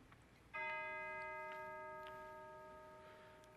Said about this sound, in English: continue on in our worship service with the calling bell